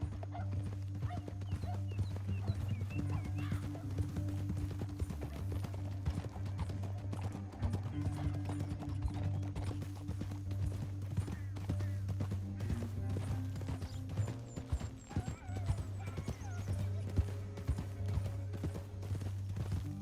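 Horses gallop across open country in Red Dead Redemption 2, a continuous close clip-clop of hooves with occasional whinnies over a low musical score.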